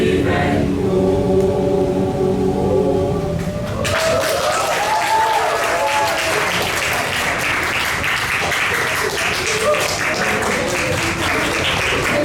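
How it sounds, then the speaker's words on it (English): An open mic audience applauds loudly and steadily for a music ensemble, the clapping kicking in after a few seconds of fading music and continuing to the end. "another round of applause for the Satu Suara Music Ensemble."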